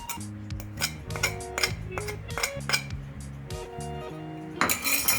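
A curd, milk and cream mixture is whisked in a bowl, metal clinking and tapping against the rim in a quick uneven rhythm with ringing tones between strokes.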